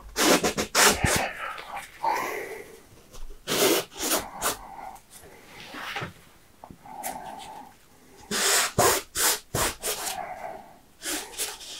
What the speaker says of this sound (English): scraping away with that palette knife as well.